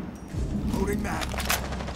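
Tachanka's gunfire in Rainbow Six Siege, a dense burst of shots that sits under and around voices talking.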